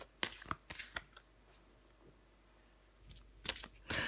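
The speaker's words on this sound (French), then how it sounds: "Je vais prendre encore une carte." Tarot cards shuffled and drawn by hand, with short riffling bursts at the start and again near the end and quiet gaps between, close and soft with no talking.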